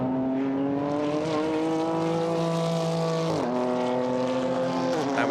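GT4 race cars at Paul Ricard working through the chicane, a loud close engine note dropping and rising with gear changes and braking, with a second car's drone layered in and a sharp downshift near the end.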